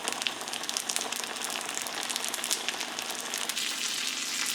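Potatoes Anna frying in a cast iron skillet, a steady close crackling sizzle with dense popping spatter throughout, no talk.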